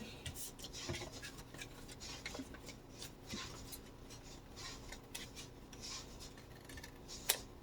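Scissors trimming a paper craft tag, a series of close, quiet snips and rustling scrapes of paper scattered irregularly, ending with one sharper, louder cut.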